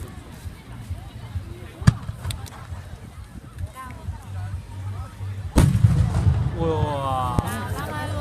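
Fireworks bursting over the sea, a few sharp booms and crackles with a big blast partway through followed by fizzing, whistling trails, heard amid a chattering crowd.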